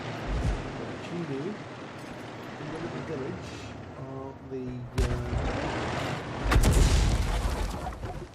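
Artillery shot from a GW Panther self-propelled gun in World of Tanks, a heavy boom breaking through rumbling game ambience with engine noise, a commentator talking throughout.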